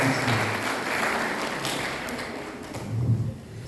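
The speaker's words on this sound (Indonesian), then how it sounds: "Beri tepuk tangan untuk Kakak Devi" An audience at a Catholic youth fellowship gathering in Semarang applauds as a speaker is welcomed to the stage, a steady, moderately soft wash of clapping that swells slightly near the end.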